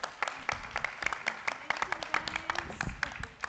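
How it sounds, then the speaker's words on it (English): Audience clapping at a national climate governance summit, a steady patter of many hands with sharp individual claps standing out, filling the hall at moderate level for several seconds. "A big round of applause for them."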